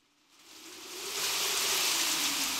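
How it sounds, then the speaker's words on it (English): Heavy rain sound effect in a narrated story setting at night around an old house, swelling in from quiet to a loud, steady broadband downpour with no voices. "The rain fell heavily."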